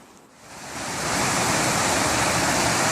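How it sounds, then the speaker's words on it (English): Snowmelt water rushes down a mountainside near Muir Pass on the Pacific Crest Trail, a broad, loud, continuous roar that swells up within the first second and then holds steady. "There's a lot of water coming off this mountain."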